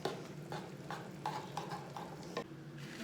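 Pistachio layer cake ingredients are stirred in a bowl, giving soft rhythmic scraping strokes at a steady pace, quiet and close with no talking.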